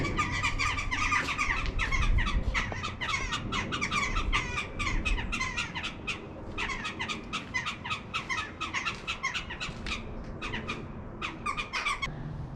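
Birds squawk and chatter in dense, overlapping high calls above the ruins of Coity Castle in Wales, with a constant flock din heard from below and faint background rumble.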